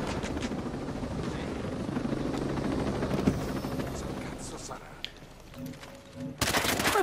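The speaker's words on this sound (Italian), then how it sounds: "andiamo a prendere l'elicottero" A helicopter in the Ghost Recon Breakpoint video game gives a steady, loud rotor drone mixed with rattling bursts of gunfire, with a voice briefly audible before it ends on a sharp burst.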